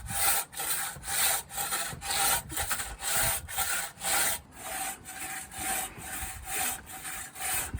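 A hand saw cuts through wood in a steady back-and-forth rhythm, each rasping stroke loud and close, around a dozen strokes running evenly without any speech.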